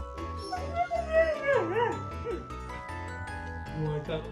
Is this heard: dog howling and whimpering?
yes